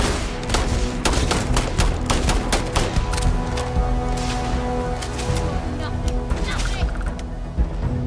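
In Starfield, repeated gunshots crack in sharp bursts, loud and close, with rapid volleys over a constant background mix and some speech-like sound mixed in.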